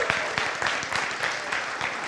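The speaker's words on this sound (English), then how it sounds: "a round of applause for these guys" Brief scattered round of applause from a military garrison audience at a JBLM update event, fairly quiet and distant, clapping bursts evenly spread.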